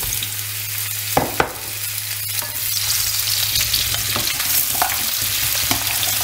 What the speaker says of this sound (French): versez les courgettes pour les faire dorer